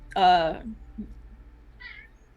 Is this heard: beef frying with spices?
no